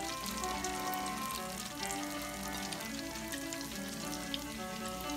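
Chicken wings fry steadily in hot oil, a constant crackling sizzle with no talking.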